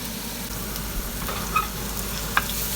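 Garlic and green onion sizzle steadily in a frying pan over lowered heat, a loud continuous crackling hiss with a couple of sharp pops and no talking.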